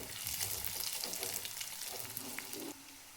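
Garlic and ginger fry in hot oil with onion already browned, a steady close sizzle with light crackle throughout that eases down near the end.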